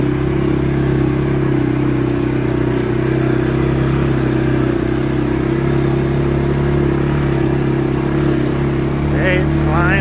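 A 2022 CForce 500 ATV engine labours steadily in low gear while climbing a rocky high-desert mountain trail, a constant close drone running the whole time.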